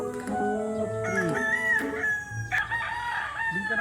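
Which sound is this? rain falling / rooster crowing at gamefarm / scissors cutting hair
rooster crowing at gamefarm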